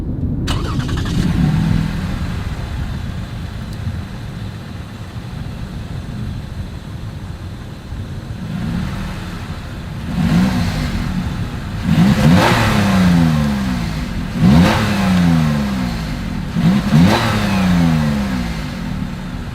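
A 2021 Lexus RX350 is heard from the rear at its dual exhaust with chrome tips, running steadily at first and then giving several sharp revs in a row, each one rising and falling back.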